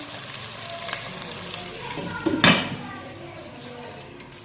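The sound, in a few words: chicken frying and being stirred in a pot for biryani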